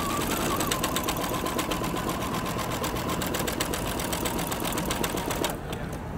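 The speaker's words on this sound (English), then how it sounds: "I'm gonna go ahead and stitch again." A sewing machine stitches a quilt with a steady, fast mechanical whirr and rhythmic needle clatter, running continuously and close before stopping near the end.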